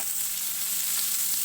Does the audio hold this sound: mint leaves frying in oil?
yes